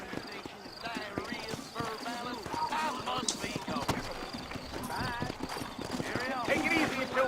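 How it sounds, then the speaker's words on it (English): Horse hooves clip-clopping in the Red Dead Redemption video game, a steady trotting rhythm under a man's speech, with a brief whinny. "You ain't gonna find sturdier horses than these in all of New Ulster."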